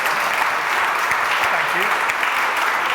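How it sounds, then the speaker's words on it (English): Audience at a tech talk breaks into sustained applause, a thick continuous clapping texture filling the room at fairly loud level with a faint voice briefly underneath. "let's start with a round of applause"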